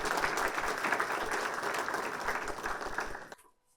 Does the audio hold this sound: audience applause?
yes